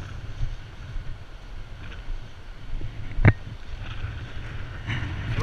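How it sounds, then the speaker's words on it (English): Gusty wind rumbles and buffets the microphone at a moderate level on a bouncy suspension bridge between Phakding and Namche in Nepal, with a sharp knock partway through and no talking. "Yeah, a little windy."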